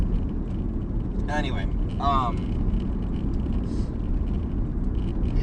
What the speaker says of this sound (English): I might get a little bit rough and loud in this car because we're on a dirt road that's kind of gravelly